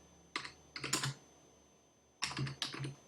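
Typing on a computer keyboard while entering tasks in Microsoft Project, two short bursts of close, crisp key clicks separated by a pause.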